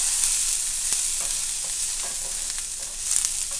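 Onions and garlic fry in a pan for picadillo, a steady soft sizzle broken by scraping strokes of a spoon stirring them.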